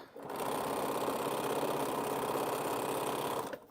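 Sewing machine running one continuous fast stitching pass on a string quilt, a steady close mechanical whir starting and stopping cleanly, with no talk over it.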